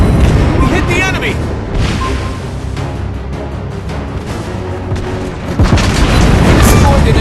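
Warship guns booming and shells striking in World of Warships Blitz, a dense run of loud, heavy blasts and rumbling impacts, with a voice speaking over the battle.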